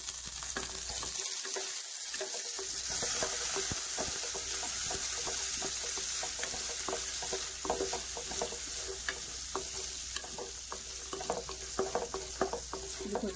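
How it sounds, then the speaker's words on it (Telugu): Dry fruits frying in ghee in a kadai for a Hyderabadi kaddu ka kheer, a continuous close sizzle with crackling bursts and occasional stirring scrapes, no voices. "నెయ్యి వేసి ఒకసారి డ్రై ఫ్రూట్స్ అనేది ఫ్రై చేస్తాను."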